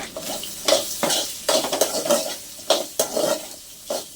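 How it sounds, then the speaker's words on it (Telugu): Crushed garlic frying in a pan, heard as rhythmic stirring scrapes and clanks of a utensil against metal, repeated every half second or so over a light sizzle; no speech. "ఇలా ఒకసారి వేయించుకోవాలి. ఇది కూడా కొంచెం పచ్చివాసన పోవాలి."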